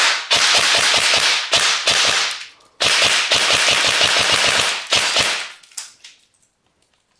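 A G&G M4 airsoft rifle fires loud, rapid full-auto bursts up close: a long string, a short gap, another long burst, then a few trailing shots before it falls quiet.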